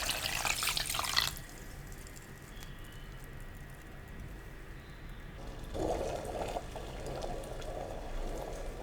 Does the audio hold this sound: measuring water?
yes